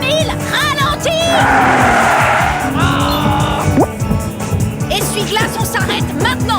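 A cartoon car speeds with a revving engine and long squealing tire skids, loud and close, mixed with dramatic music and bursts of animated voices.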